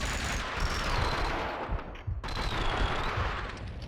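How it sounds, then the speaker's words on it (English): Rapid gunfire bursts from the video game Max Payne 2 rattle in dense, loud volleys, with a brief gap before the shooting resumes, no voices over it. "Someone must have heard the gunfire."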